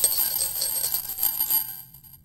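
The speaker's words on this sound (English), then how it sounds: "it also chimes when you pick up the pack" A pack of Glint's dentifrice gum chimes as it is picked up: a bright, steady bell-like ringing that holds for nearly two seconds, then cuts off into silence.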